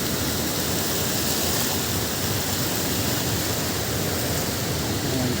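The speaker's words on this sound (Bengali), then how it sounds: "দেখেন পানির কি শব্দ বা কি একটা স্পিড" Fast-flowing river water rushes in a loud, unbroken roar at an eroding riverbank, a steady broadband wash with no pauses.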